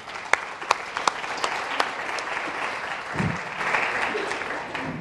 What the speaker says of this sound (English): So please, guys, one big round of applause for my female superheroes right here.